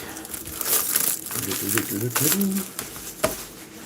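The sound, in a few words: plastic wrapping being crinkled and removed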